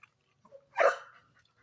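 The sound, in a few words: dog barking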